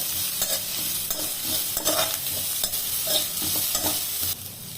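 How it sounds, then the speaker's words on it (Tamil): Onions and green chillies sauté in a pan while a spoon stirs them, giving scraping strokes at an irregular rhythm over a steady frying sizzle, close and fairly loud with no speech. "போட்டு கொஞ்சம் கிண்டிக்கலாம். கொஞ்சம் நல்லா வதங்கட்டும். வெங்காயம் நல்லா வதங்கட்டும்."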